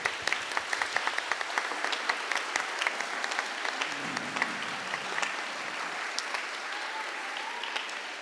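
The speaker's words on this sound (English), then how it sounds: "Big round of applause for all the teachers." Audience applause for the teachers at a school podcast competition final, a moderate crowd clapping with some sharp individual claps standing out early, easing off into a softer patter, with a faint voice partway through.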